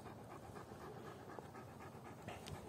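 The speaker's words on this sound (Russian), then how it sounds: "Тяжело тебе, да? Тяжело дышишь?" A kennel dog pants heavily after training, rapid steady breaths at close range, moderately loud and continuous, with no talk.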